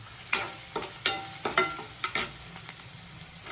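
Vegetables roasting in a pan for egg bhurji, with capsicum among them, give a steady soft sizzle broken by a series of sharp scraping stirs close by and fading toward the end.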